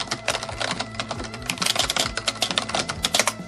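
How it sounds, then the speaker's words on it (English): Fast, dense typing on a well broken-in membrane computer keyboard, a steady run of soft, close key presses with irregular rhythm and no talking. "This is a nicely broken-in membrane board."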